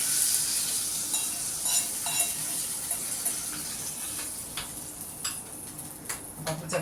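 Hot tadka poured over chutney for ghee podi idli sizzles in a steady bright hiss, with scattered small crackles and light ticking spatters throughout.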